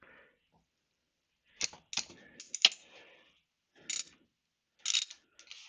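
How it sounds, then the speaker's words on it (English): Clicks and ratcheting metallic scrapes from a clutch adjuster screw being undone on a BSA B50 Gold Star motorcycle, in short separate bursts with silent gaps, close and fairly quiet. "So I'm going to just undo this adjuster screw for now."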